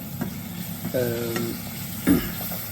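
Green tomato, dal and mutton biryani mixture is stirred in a pan, with scraping spoon strokes and soft sizzling, plus a brief tonal squeak and a louder scrape near the end; no talking.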